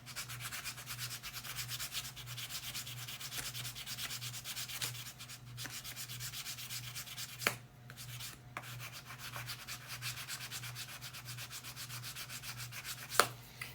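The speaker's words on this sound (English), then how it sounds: "I'm gonna sand these just a titch more" Steady back-and-forth sanding on wooden letters, a continuous close rasping scrape with a couple of brief pauses and small knocks, over a low background hum.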